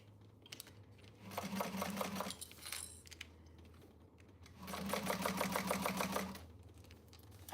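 A sewing machine sews a quilt from the bottom corner in two short, rapid whirring runs with a pause between, close and fairly quiet.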